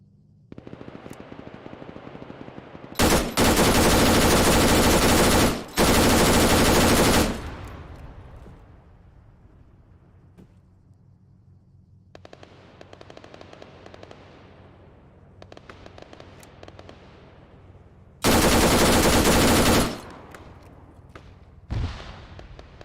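Gunfire in the military shooter game Arma 3: two long stretches of loud sustained automatic fire, a sharp gap between them, then quieter scattered shots and short bursts, and a final loud burst near the end.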